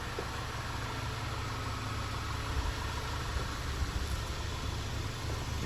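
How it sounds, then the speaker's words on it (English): A Volkswagen or Audi car idles steadily nearby, a constant low engine hum with a faint broadband hiss and no revving across the whole stretch. "as you can see, the car's running normally."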